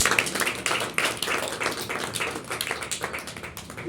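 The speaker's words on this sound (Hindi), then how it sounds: "एक बार अनिल आर्य जी के लिए जोरदार ताली बजाइए।" Close, lively applause from a crowd at a community welfare group's celebration, with uneven bursts of individual claps audible in the dense clapping throughout.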